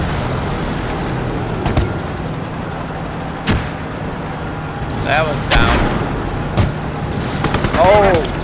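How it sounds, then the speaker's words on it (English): Mortar fire in Call to Arms Gates of Hell, with sharp, distant thumps and cracks spread irregularly across a low battlefield rumble. Someone talks over the shelling at intervals. "Mortars."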